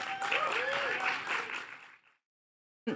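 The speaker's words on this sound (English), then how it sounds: "So please give a warm round of applause to Sally Ashton, everyone." A theatre audience applauds a poet at a Legacy of Poetry Day at the Hammer Theatre. The clapping runs under a clear speaking voice, fades out after about two seconds into silence, and another sound starts briefly at the very end.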